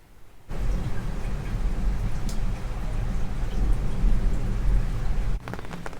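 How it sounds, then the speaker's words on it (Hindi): A heavy downpour is heard from a balcony: dense, steady rain roars close by without a break, then drops off sharply near the end into lighter patter and drips. "आज बादल खुल के बरस रहा है।"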